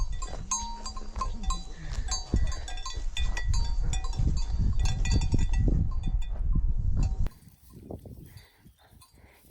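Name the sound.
cattle, a young calf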